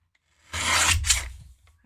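A blade trims the excess card border from a handmade book fold card, giving one short rasping scrape that rises, holds about a second and fades in a quiet room.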